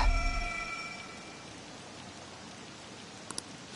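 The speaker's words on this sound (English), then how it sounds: "This rain ain't too bad." Steady rain falls in the video game Persona 5 Royal, a soft, even hiss of drops that runs throughout. A faint tone fades out early, and brief clicks sound near the end.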